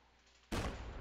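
Cannon fire in the Trigon's Labyrinth strategy game: a sudden loud blast after half a second of near silence, followed by a dense, sustained rumbling barrage.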